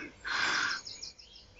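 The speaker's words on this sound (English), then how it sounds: "which is the wren. It's an explosive, loud, long song." A wren lets out a short, bright burst of song close by, followed by fainter chirps.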